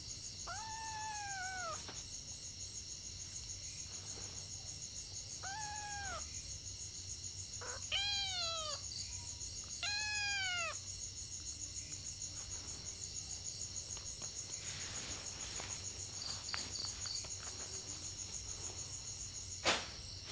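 A cat meows several times, rising-and-falling cries repeated in pairs and clusters, over a constant high chorus of crickets and insects in a quiet nighttime setting.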